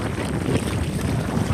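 Strong wind buffets a small boat at sea over shallow crab-fishing water, a loud, dense roaring rush that stays constant throughout.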